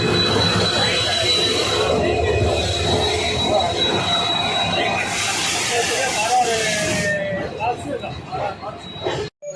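A passenger train rolls steadily past along a station platform nearby with continuous rumbling, hissing and occasional wheel squeal, easing off toward the end.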